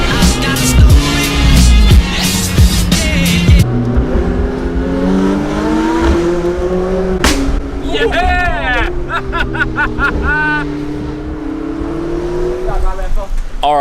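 A supercar in Hong Kong revs its engine in loud rising and falling bursts, with a sharp blip partway through, while voices talk over it throughout.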